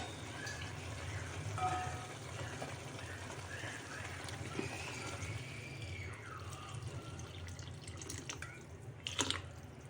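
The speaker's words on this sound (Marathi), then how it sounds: "राहिले जवळजवळ दीड ते दोन ग्लास पाणी ओतायचं" Water pours steadily into a pot of fenugreek seeds for soup, about two glasses, with a gurgling, sloshing flow, fairly quiet, ending with a clatter near the close.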